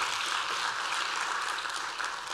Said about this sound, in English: I wish you could clap them, give them a round of applause.